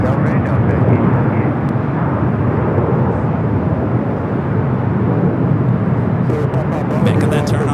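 Airliner in from Frankfurt taxiing at LAX, a loud constant engine rumble and whine, close and steady, with a few faint clicks near the end.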